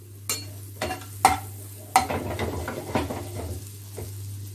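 Garlic sautéing lightly in a tablespoon of melted butter for coriander chicken, with a soft sizzle under several sharp stirring scrapes of a spoon against the pan, close by and fairly quiet.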